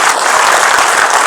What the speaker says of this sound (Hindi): अगर आप अपने लिए सब एक बार और ताली बजा लेंगे तो